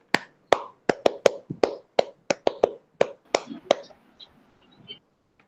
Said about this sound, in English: welcome Yash by giving a school clap.